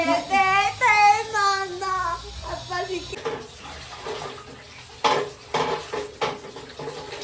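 Pots and dishes clank and scrape nearby as a home kitchen is cleaned up after Ugadi festival cooking. A voice talks over the opening seconds, then irregular clatters and knocks follow.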